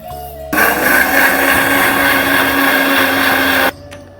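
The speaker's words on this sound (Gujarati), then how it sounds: "હવે તેને આપણે મિક્સરમાં બારીક પીસી લઈશું" A mixer grinder finely grinds roasted coriander and fennel seeds: a loud, high whirring motor starts abruptly, runs steadily for about three seconds, then cuts off.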